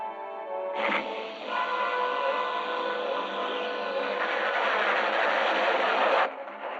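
A train runs along the tracks in a 1952 science-fiction film, a steady rushing, rumbling roar that holds for several seconds and then cuts off abruptly.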